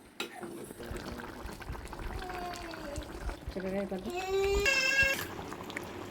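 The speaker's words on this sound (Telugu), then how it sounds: "వాటర్ వేసుకుని బాగా మిక్స్ చేసుకుని మళ్ళీ మూత పెట్టేద్దాము" Water is poured into chicken curry and splashes, followed by stirring and bubbling, with a voice and tonal sounds over it.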